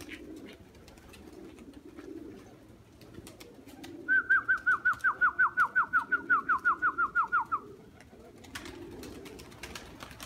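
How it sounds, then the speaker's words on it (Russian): Fighting pigeons are out in the open air. A fast, evenly spaced run of about sixteen sharp tonal pulses lasts several seconds over a low rumble of wind, with scattered clicks before and after. "Вот это бойные голуби"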